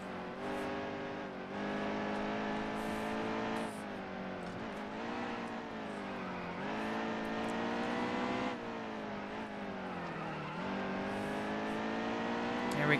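A race truck engine on a road course in NASCAR Heat 2 holds a steady, droning whine that rises and falls through shifts and corners and stays loud and close throughout.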